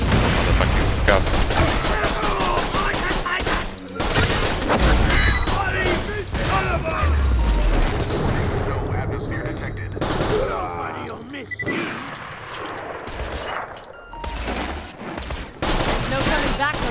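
Dense, near-constant gunfire in Borderlands: The Pre-Sequel, rapid automatic bursts and shots crackling loud and close for much of the stretch, thinning toward the end, with game voices and effects mixed in.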